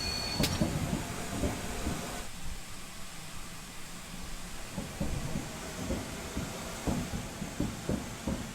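A GWR Small Prairie tank locomotive rolls along in Train Simulator 2015, giving a steady rumble with rhythmic wheel clicks and clunks at moderate level, no talk.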